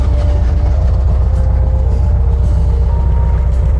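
A 1969 VW dune buggy's air-cooled engine runs loud and close at a steady, rough idle with a low throbbing rumble, and no voices are heard.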